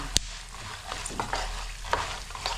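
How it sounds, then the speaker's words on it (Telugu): Ingredients frying in a pan until golden, with soft continuous sizzling and a few sharp stirring clinks and scrapes spaced through it. "చక్కగా దోరగా వేపుకోవాలి చక్కగా వేపుతుండనే రుచి వచ్చిద్దాం"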